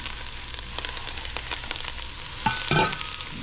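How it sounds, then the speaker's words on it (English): Onions, carrots and celery sizzle steadily in a hot pan while being stirred for risotto, with close scraping strokes and a louder clatter of the utensil near the end, no voices. "We're just going to mix it in real good with these onions and carrots and celery."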